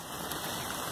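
Heavy rain falling, a dense, even hiss of water with no gaps over a brief moment, close and fairly loud, with no voices.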